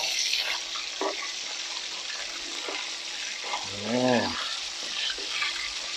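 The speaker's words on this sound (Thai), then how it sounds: "ทอดไก่แบบปกติ" Steady crackling sizzle of chicken frying in hot oil, with brief louder spatters and a short harmonic tone rising midway.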